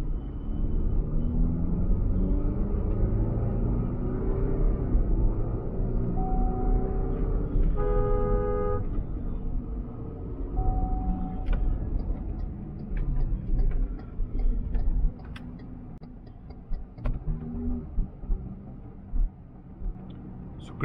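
MG Gloster SUV accelerating hard in sports mode: a deep, loud engine rumble that builds steadily and holds for several seconds, then eases off as the drone thins out and quieter road noise follows.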